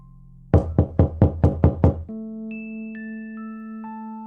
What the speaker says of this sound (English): Someone is knocking at your door.